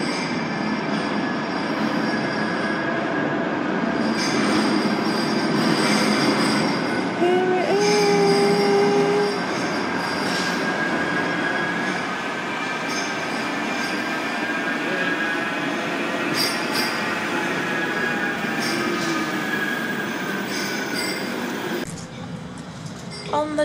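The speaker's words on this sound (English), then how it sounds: "And this should be our tram. You can hear it coming." A Liverpool tram arrives with a steady rumble and high metallic wheel squeals, loud and close, before fading; people talk nearby.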